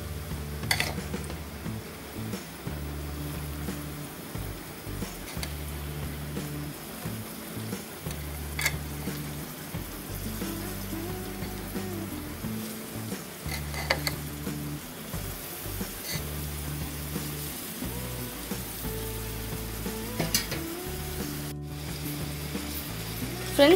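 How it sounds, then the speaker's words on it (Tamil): Steady sizzling of ridge gourd frying in a pan for an egg stir-fry, with intermittent scraping and stirring sounds throughout, and no talking. "பீக்கங்காய் சேர்த்ததுக்கப்புறமா இதோ இந்த மாதிரி நல்லா கிளறி விட்டுருங்க"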